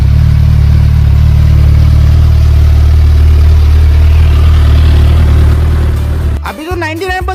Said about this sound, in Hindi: मैंने गाड़ी को स्टार्ट कर दिया और मैं उसकी आवाज सुन के ये चेक कर रहा था